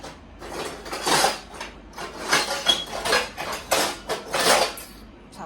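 Metal kitchen utensils and pots clatter and clink in repeated bursts as someone rummages through them searching for a ladle, close and fairly loud, with no talking.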